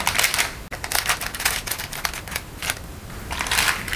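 Plastic packaging of instant porridge being opened and handled, a dense run of close crinkling and crackling rustles with a sharp snap early on, continuing steadily with no talking.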